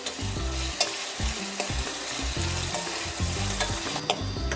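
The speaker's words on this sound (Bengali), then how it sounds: "পেঁয়াজগুলোকে একটু লাল করে ভেজে নেব।" Onions frying in a pan for chicken rezala, a steady close sizzle with repeated stirring scrapes and spoon knocks throughout, no voices.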